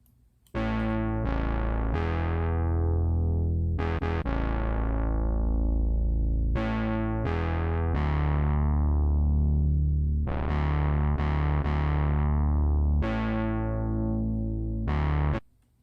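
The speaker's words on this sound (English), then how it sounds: "this bass line sounds like this" A distorted, buzzing synth bass plays a slow line of sustained low notes with sharp attacks, alone and fairly loud.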